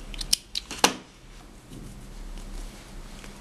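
Scissors snip through wool yarn while a two-colour knitted flower is finished off, giving two quick close clicks followed by a sharper single cut, then a quiet room hush.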